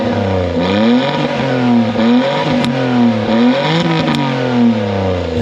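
A turbocharged Suzuki Jimny JB23 engine is revved several times close by, climbing and falling in repeated loud surges with a steady mechanical drone and no talking.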